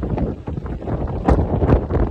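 Gale force 9 wind roars and gusts against the microphone in heavy low surges aboard a ship, with the churn of open water underneath.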